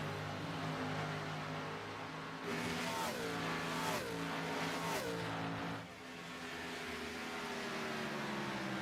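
Stock race cars lap the Charlotte track, their engines droning steadily with a few pulsing passes as the pack goes by at a moderate distance.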